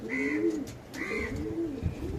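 Pigeons in a loft give repeated low throaty coos, two clear phrases near and steady with a faint higher call above.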